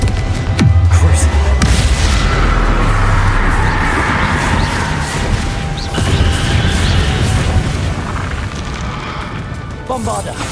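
Spell explosions from the Hogwarts Legacy video game, with dense booming blasts and crashing bursts repeating through a busy combat soundscape, a spoken voice cutting in over the continuous loud action.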